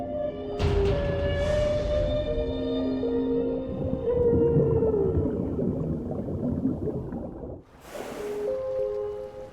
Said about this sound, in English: A male humpback whale, a singer.